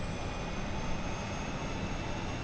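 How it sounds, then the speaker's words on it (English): An aircraft auxiliary power unit spinning up in Microsoft Flight Simulator 2020, a steady roaring whine with a thin high tone running through it, constant and fairly loud. "so we can hear the APU starting up"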